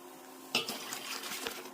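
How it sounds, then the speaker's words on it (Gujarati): Hot water poured into a large pot, a sudden splash followed by a steady filling gush lasting over a second, close and fairly quiet. "પછી પાણી નાખી દેવાનું મોટા તપેલામાં ગરમ."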